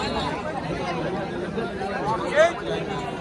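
Dense crowd chatter fills a bull race gathering, a steady babble of many voices at moderate loudness with a brief louder shout or whistle near the end.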